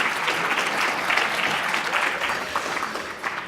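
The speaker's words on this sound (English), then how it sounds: "You may clap." Audience clapping at an awards luncheon for a leadership summit, a dense, sustained round of applause heard fairly close and evenly loud, alone without talk.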